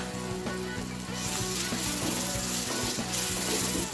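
Ginger garlic paste sizzles and fries in hot oil, a dense, continuous crackling hiss with faint stirring scrapes throughout.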